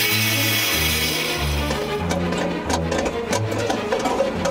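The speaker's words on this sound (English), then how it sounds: "Just need to adjust the metal thing on this angle grinder." Angle grinder cutting a catalytic converter off a car: a loud, continuous droning whine whose pitch steps and wavers as the disc bites into the metal.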